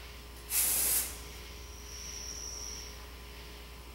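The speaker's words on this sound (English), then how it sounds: "we're going to spray a stem where it looks like we just got big areas here" A single short, loud hiss of a spray paint can burst while camouflage-painting a bike, lasting about half a second, followed by quiet room tone.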